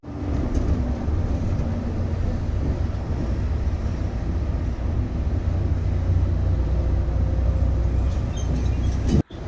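Express line bus cruising on a highway between Pune and Bengaluru: a steady, loud broadband rumble of road and engine noise runs throughout without a break, with a brief drop right at the end.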